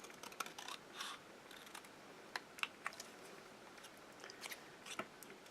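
Scissors snip through paper while a mixed media art tag is being cut out, with soft, sparse crisp cuts and light rustling at low volume.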